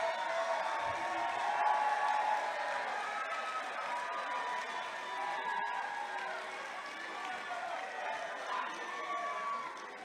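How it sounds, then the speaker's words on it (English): Audience applause for the coaches and assistant coaches at a university athletic awards ceremony, a steady sustained clapping from a large crowd with some cheering, filling the room at even volume throughout. "Big applause for them, please."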